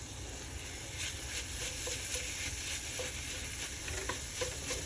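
Vegan shepherd's pie filling with garlic powder and paprika sizzles steadily in a pan while being stirred, a soft continuous frying hiss with faint scraping, no voices.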